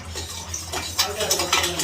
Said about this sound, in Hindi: मैं देखो ये बर्तन साफ करूँगी